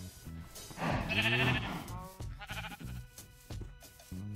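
Sheep in a Minecraft game bleat several times in a row, one prominent wavering baa and a few shorter ones after, fairly close and clear.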